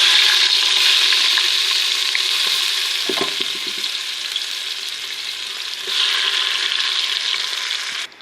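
Chopped onions sizzle and fry in hot oil in a home kitchen pan while cooking a white chana curry, a loud steady crackle throughout with a brief stir partway through.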